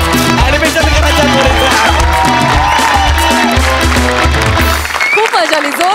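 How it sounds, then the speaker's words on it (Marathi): Studio audience at a Marathi television comedy show claps and cheers loudly through a continuous dense wash, with music and voices mixed in, fading near the end. "खूप मजा आली, जोरदार टाळ्या"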